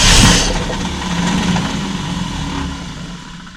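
A car engine fitted with a Holley Sniper 2 fuel injection system catches with a brief loud burst, then settles into a steady, rough idle that fades slightly toward the end.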